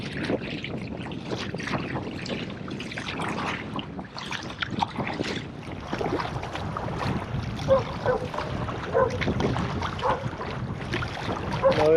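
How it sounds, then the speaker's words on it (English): Wind and choppy waves surround a kayak paddled off the coast of Malta, giving a steady rough rush of gusts and splashing water close to the microphone with no pauses. "Paddling against the wind"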